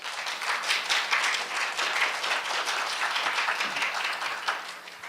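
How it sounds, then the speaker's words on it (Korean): Applause from an audience at a Korea University health forum welcoming a speaker to the stage, brisk clapping from a moderate crowd with audible individual claps, steady and then easing slightly toward the end. "박수로 맞아주시기 바랍니다"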